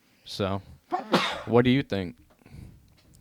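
A single sneeze breaks into casual podcast conversation, short and close to the microphone, with people talking right before and after it.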